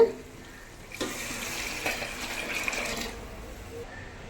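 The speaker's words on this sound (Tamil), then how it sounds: "இப்போ நம்ம தண்ணி ஊற்றிக்கலாங்க இதில்" Water poured into a pot of frying mutton for biryani, a short steady splashing pour of about two seconds after a knock, moderately close with quiet moments before and after.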